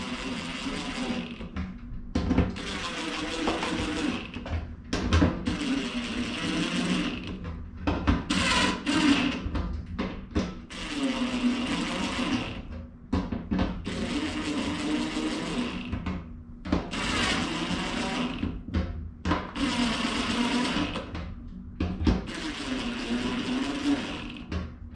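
Power gun lightly running bolts down on a fuel cell, repeated short bursts of whirring and buzzing motor noise separated by brief pauses, close and moderately loud.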